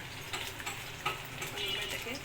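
Fish roe frying in hot oil in a pan, a steady close sizzle and crackle with small ticking pops running throughout, with no speech.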